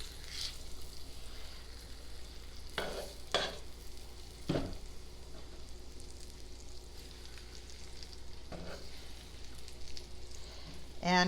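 Pork schnitzel frying slowly at low heat in a shallow film of olive oil, a faint steady crackling sizzle with a few sharp scraping and clattering bursts as the pieces are moved, and no talk over it.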